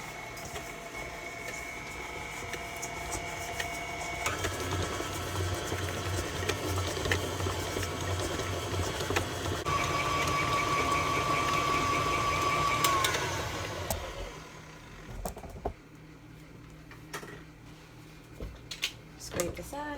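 Electric mixer creaming batter with hot African red pepper and vanilla for a bakery competition recipe, a steady whirring motor hum with a rising whine that runs for several seconds, then cuts out to quieter clatter and a voice.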